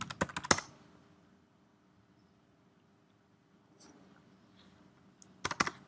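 Keystrokes typing a default username and password at a firewall's serial-console login prompt: a quick burst of close key clicks at the start, a quiet pause, then another short flurry of taps near the end.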